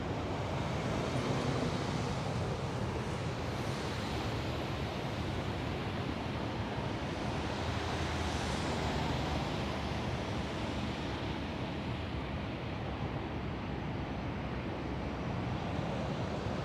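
Steady broadband roar of highway traffic near Schiphol airport during winter de-icing, a constant wash of distant noise with no breaks and no talking.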